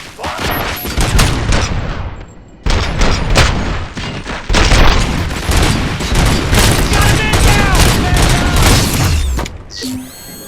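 Gunfire in the video game RoboCop Rogue City, a loud, dense barrage of rapid shots and booming impacts that runs nearly continuously for several seconds, briefly drops out, then resumes with clattering mechanical sounds.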